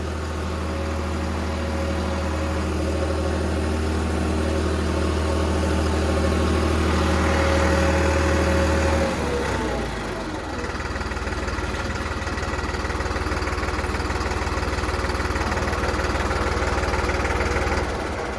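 A Holland 5620 tractor engine idles with a steady droning hum for about nine seconds, then the pitch drops and it settles into a lower, rougher rumble.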